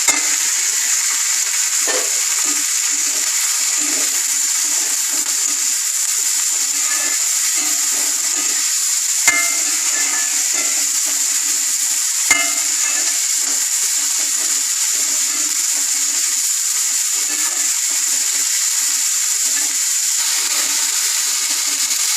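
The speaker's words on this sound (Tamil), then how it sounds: "புடலங்காயை போட்டு வதக்கலாம்." Snake gourd and tomato sizzle and fry steadily in a pan for a long stretch, with a constant hiss and occasional faint scrapes and clicks of stirring.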